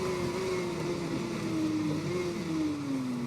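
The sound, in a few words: 2019 Yamaha racing motorbike engine in TT Isle of Man 2 video game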